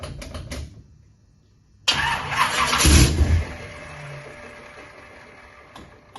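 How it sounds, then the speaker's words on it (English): A NASCAR race car engine cranks and fires up on its first start attempt, catching with a loud burst that rumbles for a second or so before settling into a rougher, quieter idle. "Go ahead and give it a little bit of gas and pray to God it starts."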